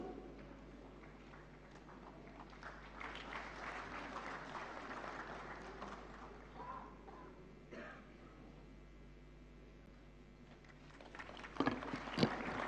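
Audience applause fills a film award ceremony as a silver lotus prize is presented, a steady sustained clapping through most of the stretch, swelling slightly louder near the end.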